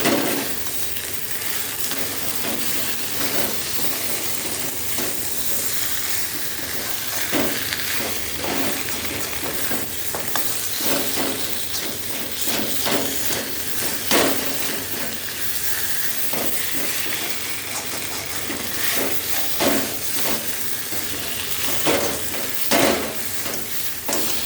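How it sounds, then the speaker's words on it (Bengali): Vegetables, bori and bitter gourd being stirred together in a pan for malai shukto, a continuous sizzle with repeated scraping stir strokes throughout. "সবজি, বড়ি সব একসাথে, উচ্ছে সব একসাথে দিয়ে দিয়েছি। মাখিয়ে নিয়ে জল দিয়ে দেবো।"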